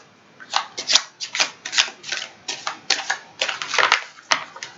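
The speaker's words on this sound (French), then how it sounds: "on les remet dedans, on les rebat une fois" A deck of tarot cards is shuffled close by in a series of brisk riffling bursts, a dozen or so quick papery flutters separated by brief pauses, no talk.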